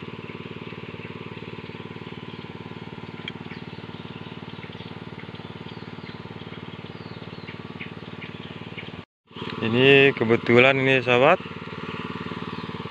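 A water pump machine engine runs steadily beside a large river in a remote forest village, a constant mid-pitched drone under a voice, interrupted by a brief pause and a burst of louder chatter.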